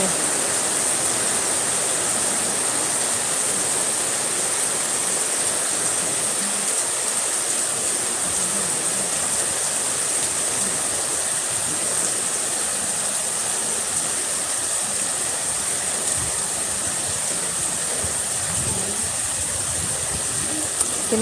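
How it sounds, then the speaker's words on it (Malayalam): Heavy rain pouring steadily during a live outdoor stream, a dense, continuous broadband hiss that holds even and loud for the whole stretch, with no clear voices over it. "മഴയുടെ ശക്തി കൂടിക്കൂടി വരുന്നുണ്ടേ"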